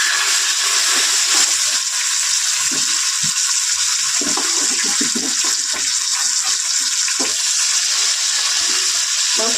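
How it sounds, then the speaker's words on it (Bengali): A rohu fish head fries in oil in a home kitchen pan, giving a loud, steady sizzling hiss that runs throughout with no pauses. "মাথাটা একটু ভেজে নিচ্ছি"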